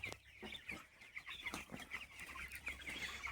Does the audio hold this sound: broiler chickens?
yes